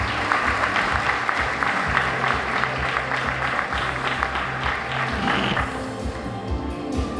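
Audience applause for an elementary school teacher at a Teacher of the Year event, dense steady clapping from a crowd lasting throughout and tapering slightly near the end, with a faint voice underneath.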